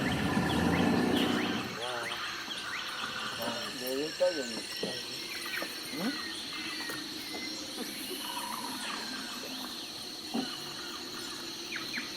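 Birdsong in the tropical forest of French Guiana, several calls and chirps scattered through a steady natural ambience of insects and small animals, with speech-like voices heard faintly at points.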